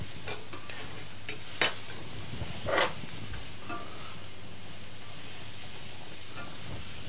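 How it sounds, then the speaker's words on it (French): Garlic frying in a pan as it is stirred in, giving a steady sizzling hiss with a few brief scraping strokes, close and without talk. "on peut déjà rajouter l'ail, mélanger en même temps"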